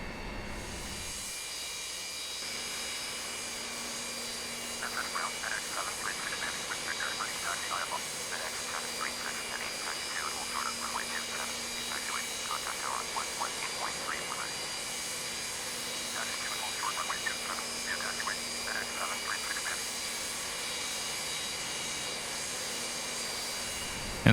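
A Boeing 727 jet taxiing in Microsoft Flight Simulator X produces a steady engine whine and hum throughout, with a person talking over it intermittently.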